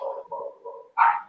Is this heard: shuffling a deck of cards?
no